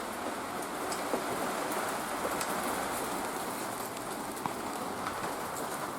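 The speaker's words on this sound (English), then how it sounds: "Rain." Steady rain pattering on a surface, continuous broadband hiss with occasional louder drops, no voices.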